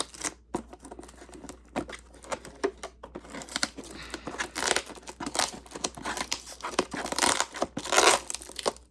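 Packing tape is peeled and torn off a cardboard box around a Miniverse record player console, producing repeated close, crackly ripping bursts separated by short pauses.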